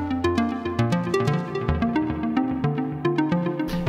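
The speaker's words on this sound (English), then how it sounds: "When I turn on the Chromatic sequencer," A Eurorack synth driven by a Max for Live Chromatic sequencer plays a fast, steady stream of shifting pitched notes, with reverb and delay added and no talk over it.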